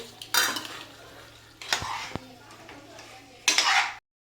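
Chicken with turmeric, salt and ginger-garlic paste being stirred in a pan, three loud scraping strokes of a utensil against the metal over a low sizzle, with a couple of sharp clinks between them.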